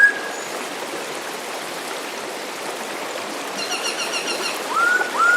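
Clear river water flowing over rocks, a steady broadband rush close by, with a few faint bird chirps near the end.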